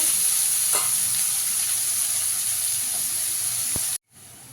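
Chopped onions frying in a pan, a loud, steady hiss of sizzling oil that runs throughout, with a couple of faint stirring knocks before it cuts off sharply near the end.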